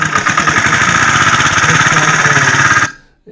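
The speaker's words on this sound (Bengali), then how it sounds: "এবার যে মেশিনটা করে জল তোলা হবে সেই স্যালোর মাধ্যমে দেখতে পাচ্ছ জল তুলে" A shallow water pump engine used to irrigate a maize field runs loud and close with a rapid rhythmic chugging, then stops abruptly near the end and falls silent.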